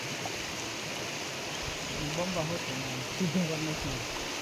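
A steady wash of water rushes along a drain nearby, with voices murmuring faintly over the continuous stream.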